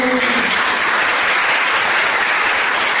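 A church congregation claps together in a steady, loud wash of applause that holds evenly for a few seconds, with no voices standing out.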